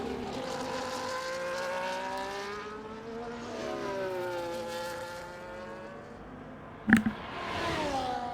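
CanAm race car screaming through a flying lap at Imola in a racing game, engine pitch climbing and falling through gear changes, with a sharp brief burst near the end, no voices.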